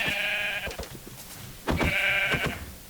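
A sheep in Minecraft is struck and lets out two nasal bleats, one at the start and one after a short pause, each clear and close with a few soft hit thuds between.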